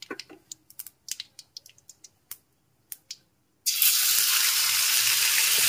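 Water is poured into a hot cooking pan holding fried spices and ginger paste for a vegetarian bottle gourd dish. Sparse small taps and clicks come first, then a sudden loud, sustained hissing rush runs to the end.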